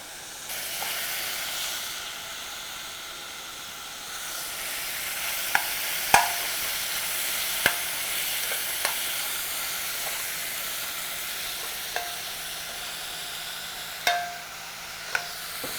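Seaweed soup ingredients sizzle in sesame oil in a pot, a steady hiss broken by sharp clicks and scrapes of a utensil stirring at irregular intervals, with no talking.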